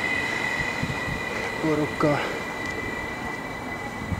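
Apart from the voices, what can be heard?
train passing a station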